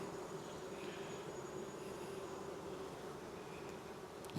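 Dense buzzing of many honeybees at an opened hive full of brood and drone brood, a continuous close drone at an even loudness throughout, with no talk.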